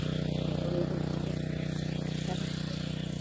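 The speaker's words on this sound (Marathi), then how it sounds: "अशी आपली मोटार चालू झाली सकाळीच." An electric water pump motor runs continuously in the morning, a steady loud buzzing drone with a fast regular pulse, close by and unbroken, with no talking.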